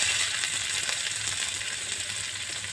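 Chopped garlic and onion frying in oil in a wok, a steady close hiss and sizzle that holds for the full few seconds.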